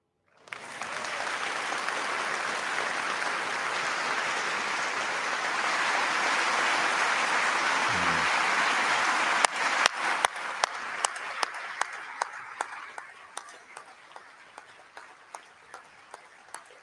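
An audience claps steadily after a speech about Ukraine in the UK, a dense sustained applause that holds for about ten seconds, then thins into a few isolated claps trailing off.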